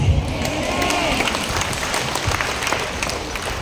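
Church congregation in Nasugbu, Batangas breaks into sustained applause, a thick, even roar of many clapping hands with faint voices mixed in.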